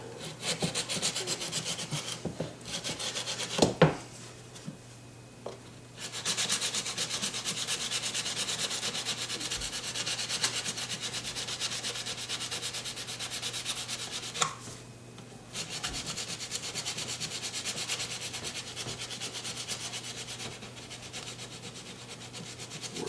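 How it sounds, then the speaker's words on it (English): Steady back-and-forth rubbing of sandpaper by hand against car body seams continues at length, pausing briefly twice before resuming at the same even rhythm. "The only way I know to get those is with the little sanding paper"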